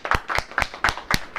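A church congregation claps hands in unison, six sharp, evenly spaced group claps over a second and a half, close and fairly loud with no talking.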